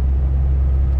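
A truck on a country road toward Alakurtti in autumn, heard from inside the cab: a steady, loud low engine rumble and road drone that continues unbroken throughout.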